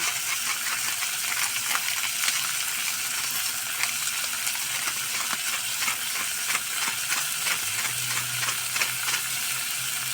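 Ampalaya leaves being stirred in a pan during cooking, a continuous sizzle with scattered scraping and light metallic clinks of the utensil, close and steady, with no talk.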